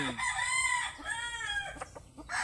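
A rooster crows loudly close by, followed by short clucks from Chinese and Talisayin chickens.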